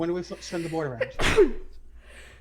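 During a tabletop D&D game session, one sharp, close sneeze bursts out between stretches of casual conversation around the table.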